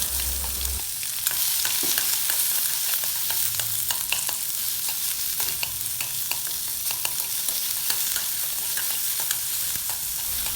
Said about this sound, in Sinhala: ඉතින් මං කපාගත්ත සුදු ලූණු, මාළු මිරිස් ටික මං තාච්චියට එක් කරගන්නයි යන්නේ.